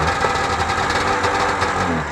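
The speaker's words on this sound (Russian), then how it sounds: "Завелся сразу. Интересно. Давно не заводил." A Rys snowmobile engine, started after a long idle, runs at a rough, steady idle with a fast mechanical chatter and vibration, close up and alone.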